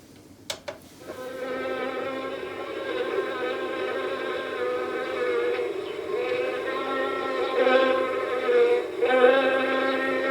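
A bee buzzes loudly and close by in a steady, continuous drone that rises and falls slightly in pitch, after a couple of brief knocks at the start.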